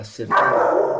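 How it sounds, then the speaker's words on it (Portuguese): A pet dog barks in a room during an online exercise class, a short loud burst followed by sustained noisy sound mixed with a person talking over it. "Desculpa o barulho do cachorro."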